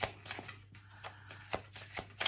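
Tarot cards are shuffled by hand: a series of soft, quick riffling bursts at an uneven rhythm, close and quiet, separated by brief pauses, with no talking.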